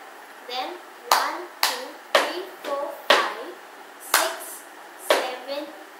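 Hand claps and slaps beat out the cup song rhythm without cups, about eight sharp, close percussive hits in an uneven pattern, each followed by a short murmur of counting voice.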